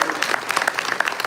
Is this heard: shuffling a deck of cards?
no